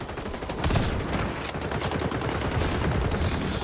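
Gunfire in the video game XDefiant, rapid close bursts of shots rattling continuously with no talk.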